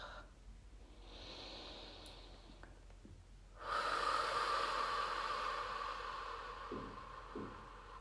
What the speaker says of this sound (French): Inspiration. Et j'expire.